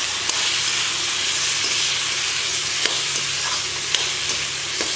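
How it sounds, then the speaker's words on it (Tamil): Water chestnuts (sinhara) being stirred into a gravy in a pan, a steady close sizzle and bubbling with faint scraping strokes of a spoon, no voices. "அதையும் சேர்த்து நல்லா கொஞ்சம் கலந்து விட்டுருங்க."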